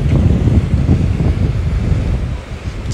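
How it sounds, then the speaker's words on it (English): Steady low wind rumbling and buffeting close to the microphone, continuous for the whole stretch with no voices. "it's gonna be windy again"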